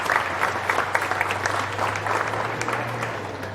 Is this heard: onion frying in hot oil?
no